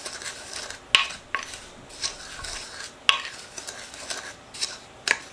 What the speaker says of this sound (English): And now you just stir this well.